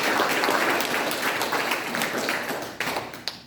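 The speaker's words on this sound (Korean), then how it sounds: "우레와 같은 박수를 보내주십니다" An assembled crowd at the launch ceremony of a Chungcheong patriotic groups federation applauds its newly inaugurated chairman, a thick, continuous roar of clapping that gradually tapers, with a few last claps near the end.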